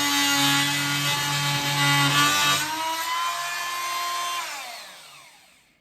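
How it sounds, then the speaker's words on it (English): An oscillating multi-tool cuts through wood trim during a living room renovation: a loud, steady motor buzz holds for a few seconds, then drops in pitch and winds down to silence at the end. No one speaks. "Well, then I'll just have to use my multi-tool."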